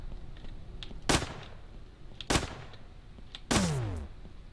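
Three sharp gunshots ring out from a weapon in the Starbound video game, spaced about a second apart, each a crisp bright crack with a brief tail, the last one followed by a falling ringing sweep.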